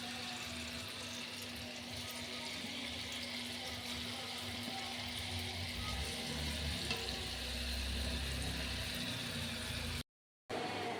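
Palm fruit pieces fry in oil with a steady, close hiss and sizzle that holds evenly for about ten seconds before cutting out briefly near the end.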